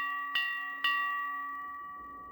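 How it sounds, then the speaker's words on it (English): Ship's bell struck twice in a video game, clear metallic rings with a long, slowly fading ringing tone, close and alone. "A ship's bell."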